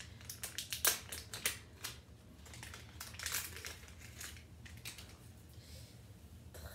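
Faint crinkling and rustling of packaging as an online-ordered necklace parcel is opened, with soft irregular crackles and a few sharper crunches close by, no voices.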